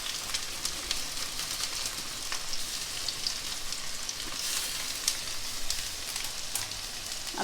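Sliced ginger frying in hot oil in a home kitchen pan for a chana curry, giving a steady, moderate crackling sizzle that runs unbroken throughout with a few sharper pops, and no voices.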